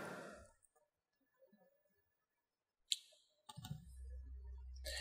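Mouse clicks while editing in Avid Media Composer: a short sharp click near the middle, then a cluster of clicks followed by a low hum, in a mostly quiet room.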